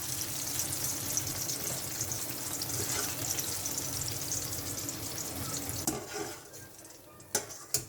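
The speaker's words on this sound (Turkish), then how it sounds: "suyunu çeken patlıcanlarımızı kızgın yağda kızartıyoruz." Loud, steady sizzling of eggplant frying in hot oil, then a quieter stretch with a couple of sharp clinks of utensils near the end.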